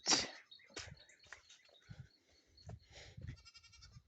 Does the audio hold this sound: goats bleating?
yes